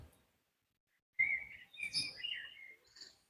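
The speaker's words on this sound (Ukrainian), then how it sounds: "пташки прямо перебивають" Small birds chirping in quick, bright bursts after a moment of quiet in a small street garden in Kraków, Poland, fairly close and clear.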